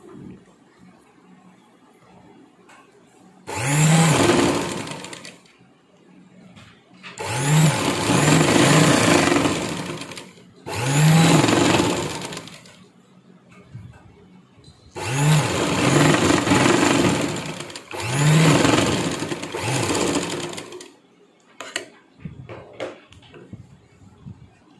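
A sewing machine runs a press stitch along a 38-inch blouse in several short bursts of motor hum, each a few seconds long and separated by quiet pauses, heard up close with no talk over it.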